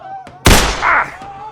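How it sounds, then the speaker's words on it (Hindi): A single sharp gunshot sound effect bursts out over a quiet musical background in a narrated comic story, loud and close with a short decaying tail. "टॉम ने तुरंत फायर कर दिया"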